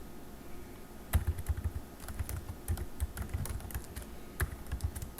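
Keystrokes on a computer keyboard while working in Excel, a burst of sharp clicks after the first second continuing irregularly through the rest, close and fairly quiet over a low hum.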